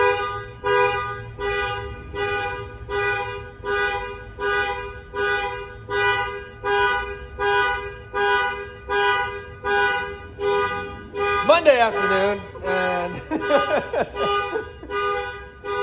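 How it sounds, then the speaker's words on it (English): A car alarm blaring nearby in steady, evenly spaced pulses, with someone speaking briefly over it near the end. "got a car alarm going."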